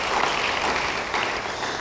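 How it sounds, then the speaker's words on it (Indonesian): A church congregation at an Indonesian sermon claps in a brief, steady burst. The applause is moderately loud and comes from the room, with no talk over it. "Yang percaya beri tepuk tangan bagi dia."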